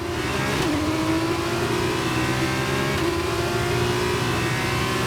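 Several race cars accelerate hard from a standing start in the F1 23 video game, Formula 2 final race. Engines roar together at steady full volume and rising pitch for the whole stretch, with no talking.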